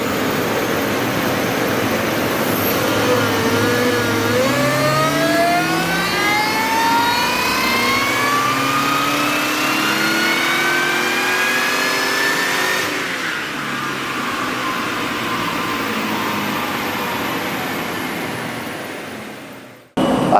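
Ford FPV GT engine running steadily on a dyno as a stock, non-intercooled car warms up, a loud continuous mid-pitched drone with rising whine harmonics, dipping slightly partway through and cutting off abruptly at the end.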